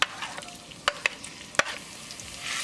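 Ginger, garlic and green chili sizzle softly in hot olive oil after cumin seeds, for a moong dal tadka, with a quiet steady fry broken by a few sharp spoon-stirring clicks against the pan.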